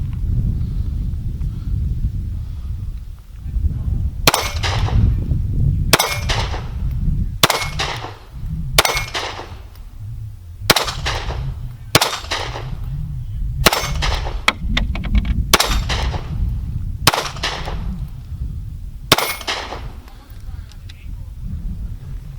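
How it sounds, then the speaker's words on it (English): A new S&W CSX 9mm pistol fires steel-case ammunition at a range, about ten sharp, loud shots spaced a second or two apart over a low rumbling background. "These are the first shots I've run through it"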